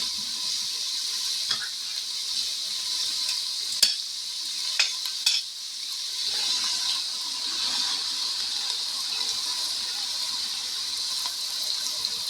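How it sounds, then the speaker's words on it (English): A 15-ounce can of tomato sauce goes into a pot of chili with beef, followed by a steady sizzling, watery hiss and soft stirring scrapes, with occasional faint clinks throughout. "we are going to add the tomato sauce. I've got a 15-ounce can of tomato sauce."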